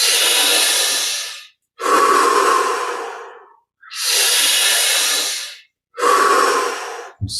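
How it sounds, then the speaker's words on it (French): Slow, deep breaths during a meditation session, heard up close and loud. Long inhales and exhales alternate steadily, with brief silent gaps between them. "Cinq dernières respirations."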